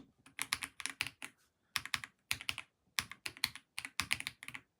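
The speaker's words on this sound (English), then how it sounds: "this is how the keyboard sounds with the stock switches" Typing on a GravaStar Mercury K1 gaming keyboard with stock Kailh linear switches gives quick bursts of crisp, close keystrokes, rapid clusters separated by brief pauses, clean and with no voices.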